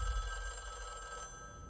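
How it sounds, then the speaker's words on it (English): Telephone ringing during a Fortnite live event cutscene in a video game, a faint electronic bell trill that holds steady for under two seconds and then cuts off. "The phone is ringing."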